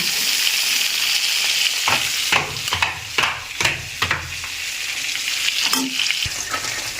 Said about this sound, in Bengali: মাছগুলা ভাজা পর্যন্ত অপেক্ষা করব